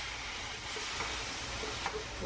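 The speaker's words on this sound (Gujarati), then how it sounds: "ચલો હવે આપણે જે ગરમ પાણીની તપેલી કરી રાખેલી હતી એમને છે આપણે આમાં એડ કરવાનું" Hot water is poured into semolina roasting in a pan for upma, giving a steady, loud hiss that holds throughout.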